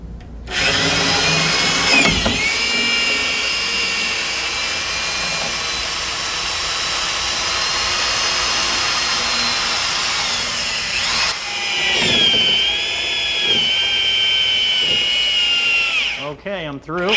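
A power drill bores up through a house wall from the windowsill toward the sheetrock top in a residential retrofit, whining loudly and steadily with brief pitch dips and stalls as the bit bites.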